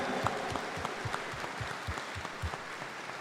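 A church congregation at an Epiphany night Mass claps during the homily, in honor of the Three Kings. The clapping is distinct and rhythmic, moderately distant in a reverberant space, with no talking over it.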